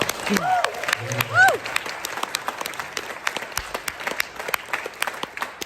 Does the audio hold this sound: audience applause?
yes